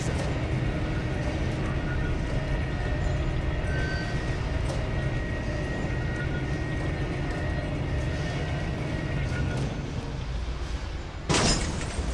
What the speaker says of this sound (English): The train is ready to depart.